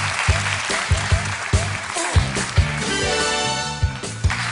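Studio audience applause during a Romanian comedy show, a loud steady wash of clapping with a music bed and thumping beats running underneath.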